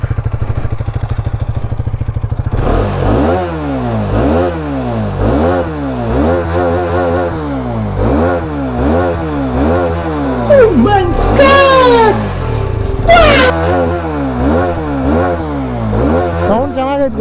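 A parked motorcycle in neutral idles briefly, then its engine is revved again and again, each blip swelling up and dropping back in a rhythmic series of loud, close vroom bursts.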